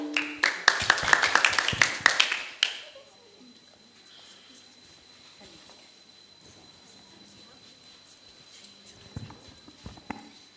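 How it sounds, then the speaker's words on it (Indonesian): A school audience gives a brief, lively round of applause to welcome performers at an elementary school event. The clapping is close and loud for a couple of seconds, then stops abruptly, leaving a quiet room with faint scattered noises. "silakan kita berikan tepuk tangan sambutan yang meriah"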